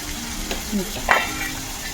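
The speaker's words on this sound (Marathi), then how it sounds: "चांगला कांदा परतून घ्यायचा." Chopped onion sautéing with salt in a pan while cooking Maharashtrian misal, a steady close hiss and sizzle with a brief stirring scrape, heard alone without talk.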